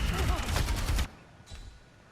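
A rapid burst of gunfire in the video game Overwatch lasts about a second before cutting to a much quieter stretch with a brief softer flare near the end.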